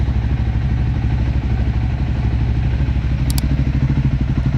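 A Scrambler 400 X motorcycle engine after a tensioner update runs steadily nearby, a loud continuous throbbing idle with a fine mechanical clatter and no talking.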